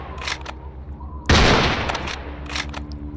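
Burst of automatic gunfire in a firefight against mercenaries in the STALKER Anomaly video game, a loud sustained volley erupting midway over faint background shots and ambient noise.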